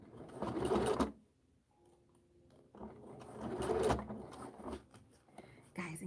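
A sewing machine stitches a fabric bag in two steady whirring bursts separated by a quiet pause, close and fairly loud, with faint rustling between runs.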